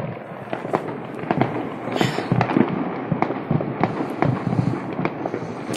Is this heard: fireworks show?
yes